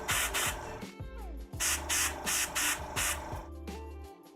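An airbrush sprays paint onto a miniature figure in short, repeated hissing bursts, each a second or so long, over a steady low hum, close and fairly loud.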